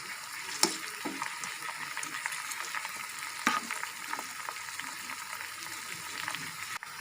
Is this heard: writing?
no